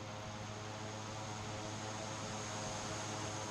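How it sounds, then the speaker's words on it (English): A steady droning Klemm Kl 25 propeller engine at high idle on the ground in Microsoft Flight Simulator 2024, constant and even, with a whining tone over a low rumble, no voices. "In idle, she revs very, very high. That's why she's so noisy when she's down on the ground."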